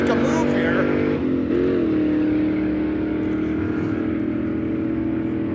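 Ford Model A and Toyota Celica drag cars launching down the strip, a loud steady engine drone with a rising pitch sweep, heard under excited commentary.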